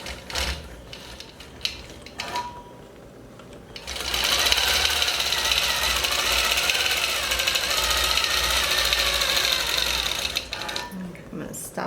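A longarm quilting machine stitches binding onto a quilt, running as a steady loud mechanical whir from about four to ten and a half seconds, with quieter handling noise before and after.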